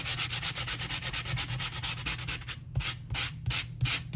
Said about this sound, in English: we're going to use a little light sanding paper grid here